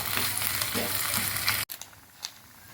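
Grated coconut for erissery sizzles steadily in a pan on a gas stove, a close, continuous frying hiss that cuts off abruptly partway through, leaving quieter faint crackles.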